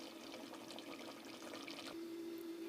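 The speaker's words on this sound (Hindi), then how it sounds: "मैंने तांबी में पानी जो है वो शामिल कर दिया" Water runs from a tap into a cooking pot to boil rice for chicken dum biryani in a home kitchen, a steady near splashing pour that shifts to a fuller, tonal filling sound near the end.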